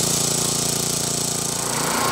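A rototiller engine runs in a city garden plot, a loud, close, rapidly pulsing mechanical chugging that holds steady throughout.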